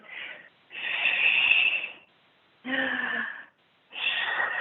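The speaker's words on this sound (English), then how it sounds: "You can hear my breathing." Heavy, forceful breaths in and out during a full-body exercise routine, four long rasping exhales and inhales in a steady rhythm, close to the microphone with no talking.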